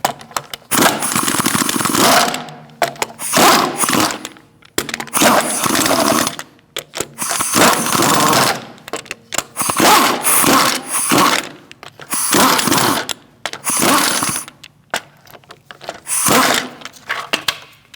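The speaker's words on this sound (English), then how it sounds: "You can take these off by hand to get the hubcap off, or you can use your gun." An impact gun spins off the hubcap nuts and lug nuts on the rear wheel of a 2016-2019 Chevrolet Cruze, firing in loud, close bursts of one to two seconds separated by short silences, with no talking.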